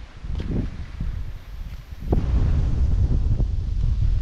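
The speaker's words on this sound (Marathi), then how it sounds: "वारा पण जाम लागतोय" Strong wind buffets the microphone in heavy low rumbling gusts during a sudden thunderstorm in rural Konkan, growing louder partway through, with faint rustling.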